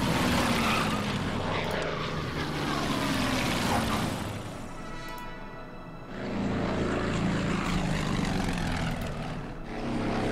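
Propeller bomber engines drone in the Burma Road scenario of the wargame Order of Battle, a loud continuous rumbling roar that dips briefly around the middle before swelling again, with no talking.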